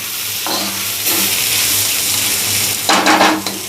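Dried tiny shrimp (jawla) fry and are stirred on a hot tawa, giving a loud, steady sizzle close up. The sizzle swells with scraping bursts of stirring near the start and again toward the end, and there is no talking.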